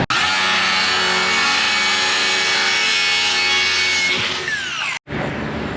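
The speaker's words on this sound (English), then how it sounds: "So I got to cut 2 44 by 8 inch pieces right now." Continuous, close, loud rasping as wood is sawn into two 44 by 8 inch pieces for a DIY drawer system, one steady stroke of cutting that ends abruptly near the finish.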